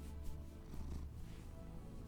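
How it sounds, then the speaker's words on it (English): A cat purrs steadily up close, a soft low rumbling vibration with no talking. "Listen to that purr."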